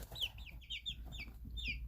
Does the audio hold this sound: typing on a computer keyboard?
no